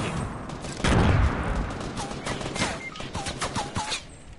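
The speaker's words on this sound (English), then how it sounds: "Grenades." Video game firefight with grenade explosions and gunfire: a heavy boom near the start followed by a rapid run of sharp shots and short bursts, fairly loud with chirping effects between.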